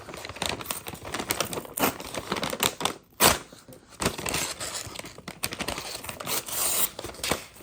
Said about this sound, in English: So you look at the back side here, it is ribbed, so you can rip straight through.